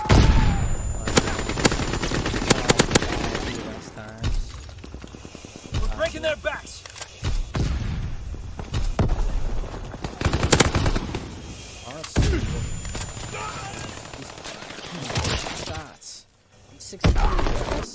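Call of Duty match with heavy gunfire and explosions: dense bursts of automatic fire and loud blasts, close and intense, with a brief lull and a player talking over the action.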